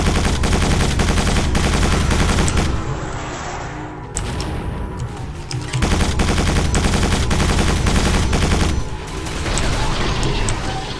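Vehicle-mounted guns in the Quake 4 video game fire in long, dense automatic bursts, loud and continuous with brief breaks and crashing impacts between volleys.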